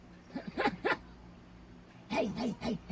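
A dog giving short barks and yips, a quick cluster of sharp calls near the start followed by a pause and then a longer run of yelping calls, fairly close but not loud.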